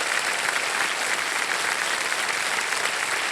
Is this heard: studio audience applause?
yes